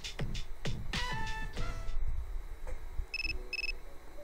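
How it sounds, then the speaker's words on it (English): A telephone in the Persona 3 FES video game rings with two short electronic trills near the end, following a few plucked musical notes from the game's soundtrack. "Another phone call."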